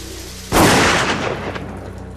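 A single loud, close gunshot blast with a sharp onset and a rumbling tail that decays over about a second, after a quiet lead-in.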